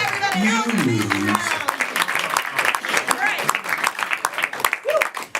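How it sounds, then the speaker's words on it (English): A game show studio audience applauds a contestant, a steady crackle of many hands clapping beneath a host's voice and cheering, continuing loudly throughout. "clap for Della, everybody"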